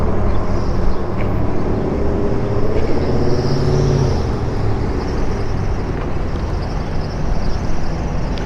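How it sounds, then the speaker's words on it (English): Cars pass in town traffic near a red light, a loud continuous roar of engines and tyres swelling and easing across several seconds, heard from close by at the roadside. "well, there's some cars there."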